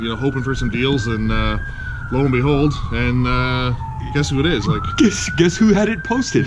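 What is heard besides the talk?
emergency vehicle sirens in the distance in Chatham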